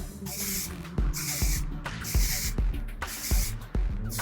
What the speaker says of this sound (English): So I'm just going in and I'm spraying at the root area